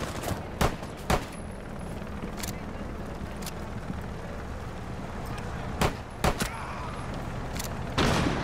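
Gunfire in Rainbow Six Siege, a handful of sharp single shots spread unevenly across the stretch, loud and close over a steady background hum, with a heavier burst at the very end.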